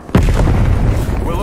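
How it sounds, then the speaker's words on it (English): A frag grenade explodes in Call of Duty Cold War multiplayer, a loud close boom after a brief quiet start, followed by a sustained low rumble that lasts over a second. "Sending frag grenade."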